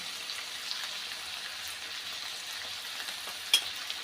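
Spices such as turmeric, red chilli powder and homemade black masala sauté in a pan for masala rice, giving a soft, continuous close sizzle with one sharp clink of a utensil near the end.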